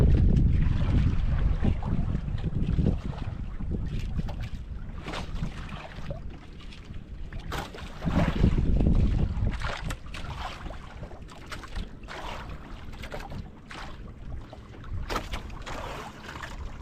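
Strong wind gusting at sea among fishing boats, buffeting the microphone in loud rushing waves with sharper knocks and creaks scattered through.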